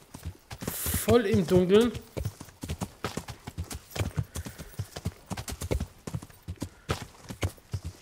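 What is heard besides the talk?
horse hooves while riding in Kingdom Come: Deliverance video game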